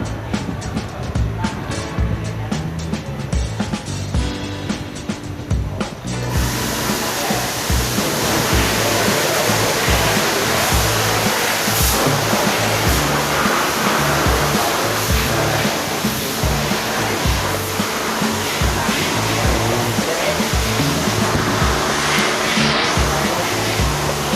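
Water jets spray a used car in a wet car-wash bay, a loud continuous rushing hiss that runs unbroken, with a harsher, more textured start giving way to a steadier roar.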